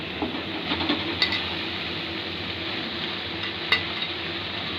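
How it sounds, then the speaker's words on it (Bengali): Water lily stems going into hot spiced oil in a pan, a steady sizzle with sharp metallic clinks of a stirring utensil against the pot, two louder knocks standing out. "এটা মশলার এখন কষানো হয়েছে, তেল বাইরে গেছে, এখন আমরা শাপলাগুলি দিব।"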